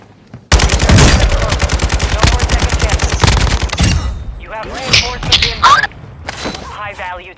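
Rapid automatic gunfire from Call of Duty: Modern Warfare II Resurgence mode rattles loudly for about three seconds, followed by scattered shots, thumps and game effects, with voices talking over the action.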